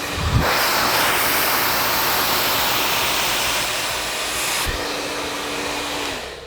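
Blow dryer running steadily and loudly on hair wrapped around a brush, a broad constant roar that shifts slightly in tone partway through, close by with no talking.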